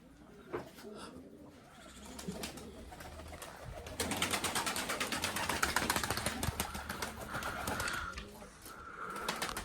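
Crested fancy pigeons coo in a loft, low rolling calls with a denser burst of flapping and bird activity in the middle, while a person talks nearby.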